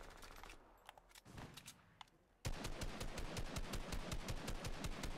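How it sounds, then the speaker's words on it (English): Rapid automatic gunfire in the Fortnite battle royale video game, sparse scattered shots at first, then a loud sustained burst of fast repeated shots filling the second half. "Might take shots at the people right below us"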